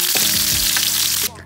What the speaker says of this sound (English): ASMR moment for y'all with that sizzling. I love it when they hit the really hot pan.